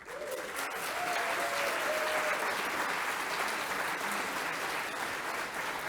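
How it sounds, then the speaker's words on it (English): Audience at a university athletics hall of fame ceremony giving sustained applause, a steady wash of many hands clapping at moderate distance with no talking over it. "So let's give a round of applause for the Taylors, Lori and Steve Taylor."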